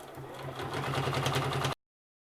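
A sewing machine stitches the edge of a hexagon mini quilt, giving a steady, close, rapid mechanical whirr with a regular stitching pulse, running alone for under two seconds before stopping abruptly.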